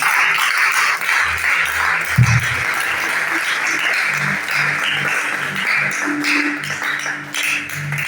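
A church congregation claps in praise of the Lord during a Sunday service, a steady wash of applause with some low thumps underneath.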